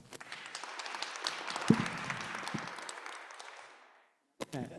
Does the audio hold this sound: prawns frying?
no